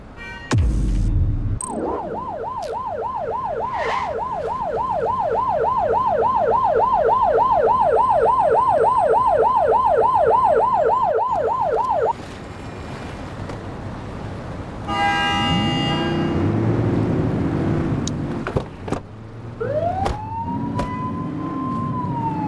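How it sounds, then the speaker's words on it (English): A police car siren from the 1980s crime-city video game The Precinct wails loudly and steadily in a rapid rising-and-falling cycle for about ten seconds, then cuts out, leaving engine and street noise with brief tonal sweeps. "You're only meant to use the siren in emergencies."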